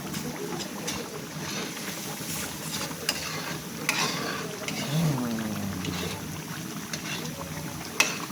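Ginataan sili is stirred in an oily pan, with soft scraping strokes of a utensil and an occasional clack over a low, steady sizzle, close by.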